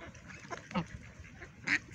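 Geese honk amid ducks squabbling over bread at a pond in the evening, a few short nasal calls rising over a busy murmur of birds, fairly faint.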